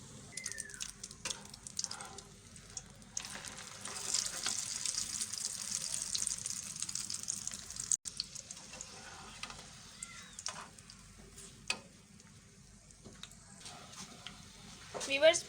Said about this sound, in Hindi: ऑयल हल्का सा गर्म हो तो इसमें हम पराठा डाल देंगे।